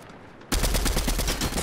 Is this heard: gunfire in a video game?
yes